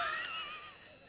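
A voice imitating snoring with a short, faint, breathy rasp that fades out over about a second.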